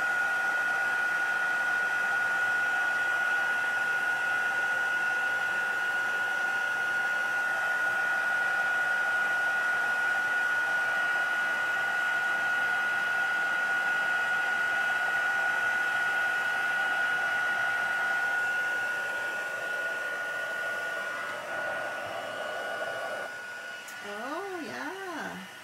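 A heat tool blows hot air to melt embossing powder on a stamped card, a steady loud whir with a high whine held for about twenty seconds before it winds down and stops.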